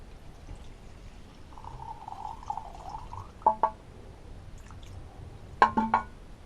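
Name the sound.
pouring old fuel out of a Hayter Hawk mower carburetor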